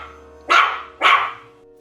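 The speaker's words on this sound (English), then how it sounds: "I've been joined on my travels by a canine companion." A dog barks twice, two loud, close, harsh barks about half a second apart over a low background hum, with no talk.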